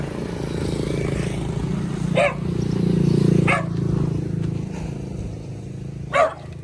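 A dachshund barks on an island street, giving three short sharp yaps spaced a few seconds apart, close and loud against steady street noise and a low motor rumble.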